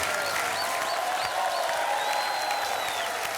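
Studio audience applause at a televised Hindi game show, a steady dense clapping wash that runs the whole moment at full level without breaks.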